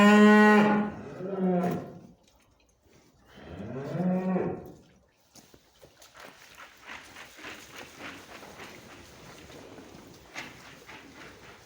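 Weaned spring-born calves mooing on a farm: two long, loud bellowing moos up close, then quieter rustling and shuffling movement of livestock in the pen.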